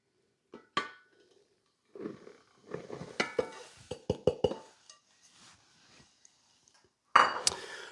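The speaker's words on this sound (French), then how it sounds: "je vais mélanger jusqu'à ce qu'elle soit bien dissoute dans le lait" A spoon stirring yeast into milk in a bowl, with soft swishing strokes broken by several sharp clinks of metal against the bowl and a brief louder clatter near the end, with no voices.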